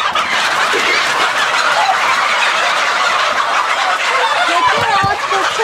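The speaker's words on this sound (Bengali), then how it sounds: "আমরা তাহলে একটা মুরগি একটু ধরে দেখি" A flock of naked neck Fayoumi hybrid chickens on a poultry farm clucks and squawks loudly and continuously as one bird is caught, with agitated calls overlapping close by.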